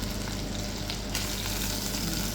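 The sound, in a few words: onions sautéing in a pan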